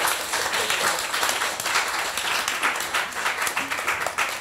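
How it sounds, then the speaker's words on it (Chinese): A seated audience at a talk gives warm applause, many hands clapping in a steady rolling wash at moderate volume that holds without pause, with no speech over it. "我们还是给他们掌声一下"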